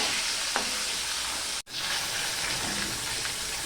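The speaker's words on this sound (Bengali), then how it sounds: "মাছের পিসটা আমি তুলে নিচ্ছি দেশি পেঁয়াজ দিয়ে দিলাম আবারও ভেজে নেব" Local onions and rui fish frying in oil in a pan, a steady close sizzle with light stirring clatter and a sharp momentary break partway through.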